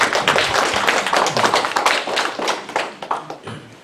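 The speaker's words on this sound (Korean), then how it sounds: "다음에 일어나서 박수 한 번 할까 그래야 되겠네" A church congregation claps together during a Sunday worship service, producing dense, loud, continuous applause with a scattered rhythm that fills the room.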